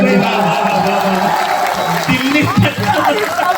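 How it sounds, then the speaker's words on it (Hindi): A rally crowd in a Bihar political gathering claps with raised hands, a loud continuous wash of clapping mixed with cheering, murmurs and a voice over a loudspeaker. "बिहार के नाम एक बार हाथ उठा करके ताली बजाइए।"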